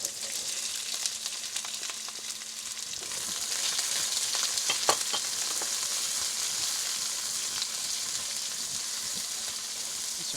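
Chopped onion with curry leaves for vegetable korma sizzles steadily and close in hot oil, with occasional stirring clicks and a brief sharper crackle midway, and no voices.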